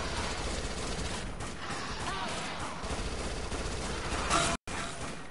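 SMG gunfire in the zombie shooter Dead Nation, rapid continuous bursts over game music and effects, loud and close, with a brief dropout near the end.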